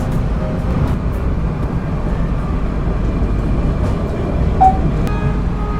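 An Indonesian KA Logawa executive-class passenger train rolls steadily on the rails as it nears Bangil station, a loud, continuous low rumble and rattle heard from inside the carriage, with a brief faint squeal partway through.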